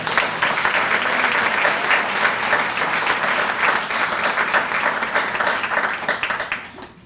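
An audience claps loudly and steadily for a speaker marking four years sober at a recovery program. The dense applause holds for several seconds and thins out at the very end.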